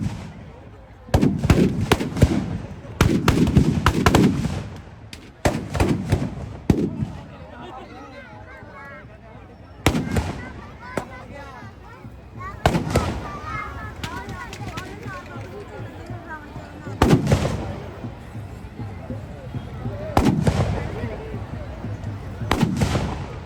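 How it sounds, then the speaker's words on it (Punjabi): Firecrackers stuffed inside a Ravana effigy burst at an outdoor Dussehra fair, sharp irregular bangs and crackling clusters spread across the scene, some loud and near, with a crowd talking and shouting throughout. "ਬੰਬ ਹੀ ਨਹੀਂ ਪਾਏ ਲੱਗਦਾ ਥੋੜੇ ਪਾਏ"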